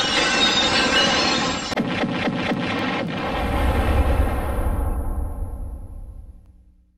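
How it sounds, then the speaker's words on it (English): A logo prop blows up: a loud burst of noise, then a series of rumbling crackles and a deep boom that slowly fades away, with no voices heard. "When the logo exploded,"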